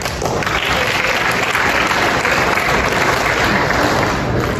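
A school audience at an eighth grade celebration applauds an Art Student of the Year award, a loud, dense, continuous wash of clapping from a large crowd that holds steady throughout.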